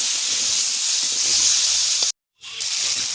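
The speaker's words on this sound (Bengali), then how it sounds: "আলু আর ওলকপিটা ভেজে নেব" Potato and kohlrabi pieces frying in oil in a pan, a steady close hiss and sizzle that cuts out briefly then resumes.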